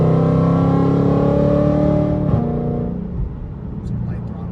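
A Shelby GT500 held at light throttle gives a steady, close engine drone with a rich low hum. It rises slightly, then settles and fades into quieter road rumble.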